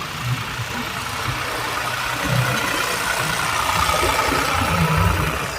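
Tractor runs steadily with a laser leveler on farmland, a continuous mid-low engine drone at moderate distance, with faint voices in the background.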